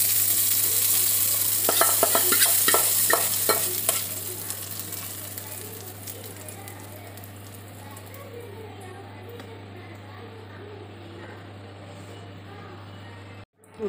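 Hot tempering with curry leaves and a broken dried red chilli poured into horse gram chutney: a loud, crackling sizzle at first that quickly settles into a softer, fading hiss over a low steady hum, heard close.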